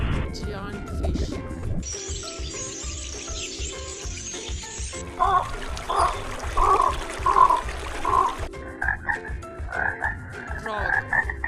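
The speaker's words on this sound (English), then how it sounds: "Frog." Frogs croaking in a steady run of loud, rhythmic pulsed calls, with trickling water and other wildlife sounds before and around them.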